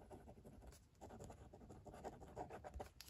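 A Tom's Studio pocket fountain pen writing reverse-side on paper, dry and scratchy, giving a faint, continuous close scratching of short strokes with no talking.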